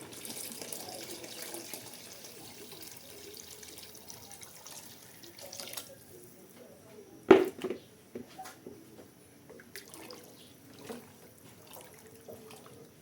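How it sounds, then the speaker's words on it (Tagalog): Tap water running into a pot while cooking creamy sopas with chicken liver, a steady faint stream with a sharper splash partway through and light clatter after, no talking. "Ngayon po ay pwede na ulit natin siyang dagdagan ng tubig."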